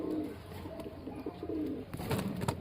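Pigeons at a pigeon farm give soft, low, repeated cooing at a modest distance, faint against quiet background rustle.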